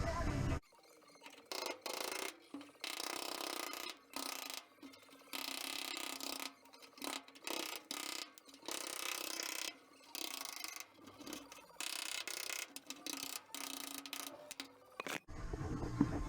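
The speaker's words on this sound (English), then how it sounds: "Have a go with the chisel now." Chisel striking and cutting through the steel bulkhead of a 1968 Classic Mini during restoration, close and loud, a run of rapid metallic blows in bursts broken by short pauses.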